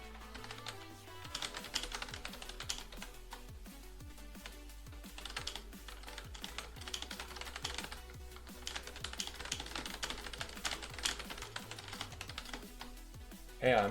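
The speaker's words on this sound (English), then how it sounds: "Hang on, I'm typing something." Fingers type steadily on a computer keyboard, a dense run of fast close clicks and key taps lasting throughout, over a quiet background hum.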